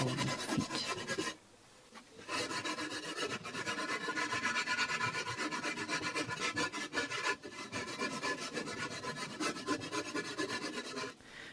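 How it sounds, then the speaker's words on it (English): Hand rasp filing aerated concrete pieces for a penguin sculpture, a near, continuous gritty scraping in steady back-and-forth strokes with one short pause early on. "I used a rasp to shape down residual stones to fit inside"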